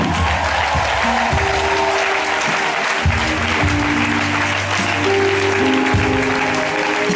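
A Catholic congregation of the Mère du Divin Amour community applauds to welcome its founder, Clément Akobé, with sustained, dense clapping from a large crowd that fills the room without a break.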